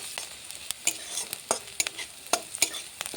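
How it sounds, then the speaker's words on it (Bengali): Onion and garlic browning in a pan sizzle steadily while a spatula scrapes and taps against the metal in quick, irregular strokes, close and clear with no voices. "এবার পেঁয়াজ আর রসুনটা হালকা ব্রাউন কালার হয়ে গিয়েছে"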